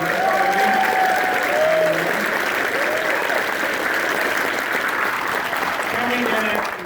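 Audience applause fills an anime convention panel at Anime Expo 2018 for Goblin Slayer, steady and dense clapping held throughout with faint voices mixed in.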